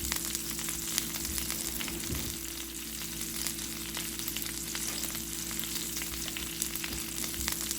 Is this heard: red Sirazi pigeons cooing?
no